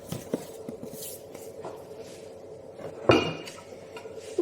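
A spoon scrapes and taps against a bowl while one mixture is folded into another for muffin batter. The knocks and clinks come at irregular moments, with one sharper knock near the end, close and with no talking.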